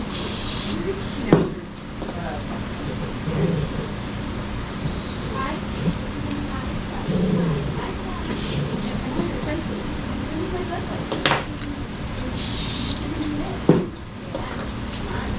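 Two short hissing bursts of hairspray on a poodle's top-knot, one at the start and one near the end, over quiet background noise with faint clinks and low voices.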